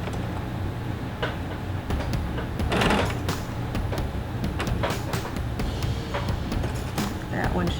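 Sewing machine stitching binding onto a quilt in a continuous rattling run, broken by brief clicks and knocks from handling the fabric and machine, all close by.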